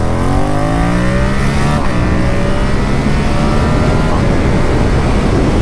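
A derestricted Yamaha MT-07 motorcycle pulls hard in second gear, its engine note rising loud and close with a drop as the revs climb again.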